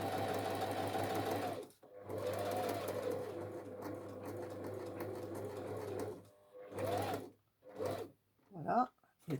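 Sewing machine stitching a piped pocket in fabric, running in bursts of steady mechanical whirring that stop and restart, followed by short broken stitches near the end.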